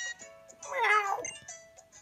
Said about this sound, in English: Hey, meow.